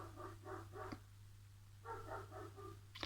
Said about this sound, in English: I do apologise if you can hear those dogs.